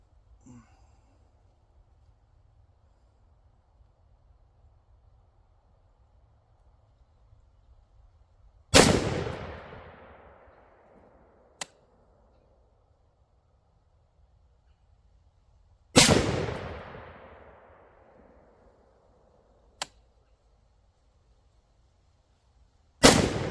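Two sharp rifle shots from a Bear Creek Arsenal 20-inch stainless .308 ring out several seconds apart outdoors, each a loud crack with a decaying echo, followed by a faint distant thump.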